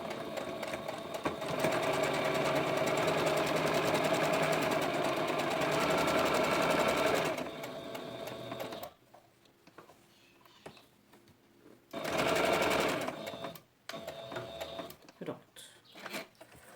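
A sewing machine stitches fabric under the presser foot while a glasses case is made. It runs in one long, loud whirring burst, pauses amid quieter handling noises, then makes a second short run.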